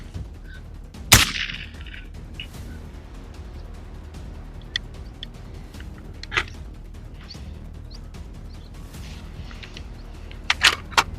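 Kral Arms KR556 rifle fired at 100 meters on an outdoor range: one sharp loud crack early on, followed by fainter scattered pops and a tight cluster of shots near the end, with quiet range ambience between.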